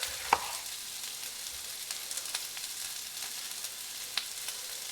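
Onions frying in a pan over medium heat for Filipino corned beef and rice, a steady soft sizzle with faint crackles and one brief clatter near the start, no talking.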